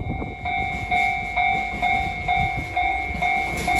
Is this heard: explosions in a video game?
no